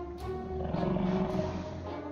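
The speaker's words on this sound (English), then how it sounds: "It's a tiger!" A tiger roars in the survival game 60 Seconds!, a loud drawn-out growling roar that swells in the middle and tapers off, heard alone without talk.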